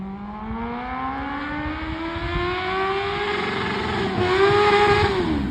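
A 2000 Suzuki Katana motorcycle with a slipping clutch revs up steadily, its engine pitch climbing slowly and rising again near the end without pulling away, loud and close with no talking.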